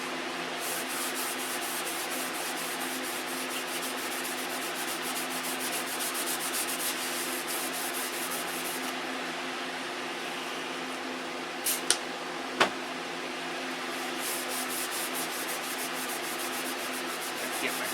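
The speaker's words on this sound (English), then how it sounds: "And we're sanding the primer and it still ain't really dry," Hand sanding of still-damp primer on a car body, a continuous close scratchy rubbing with a steady hum of a fan or compressor underneath and a couple of sharp taps partway through.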